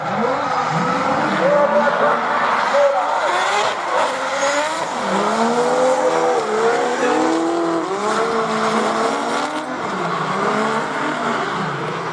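Drift cars in a lead-and-chase battle at a Drift Masters Australia event scream with revving engines and sustained tire squeal, loud and continuous, with a commentator talking over the roar.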